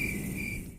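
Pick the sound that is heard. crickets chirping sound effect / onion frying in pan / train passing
crickets chirping sound effect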